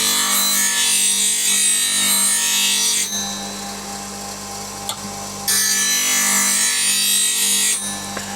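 A woodturning scraper's bevel is ground on a bench grinder: two long bursts of bright, hissing steel-on-wheel grinding, separated by a quieter stretch where the wheel keeps humming alone.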